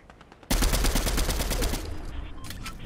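Rapid gunfire in the Fortnite video game, a sudden burst of closely spaced automatic shots that starts abruptly and runs for about two seconds before trailing off, loud and without talk.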